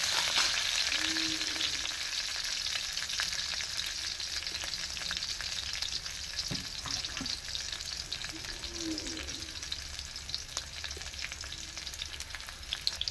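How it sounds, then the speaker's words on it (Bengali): Whole onions and whole garlic cloves sizzle in hot oil, a continuous crackling fry with a few stirring knocks and scrapes close by. "আর গোটা রসুন এগুলো লাল লাল করে ভেজে নিচ্ছি একটু।"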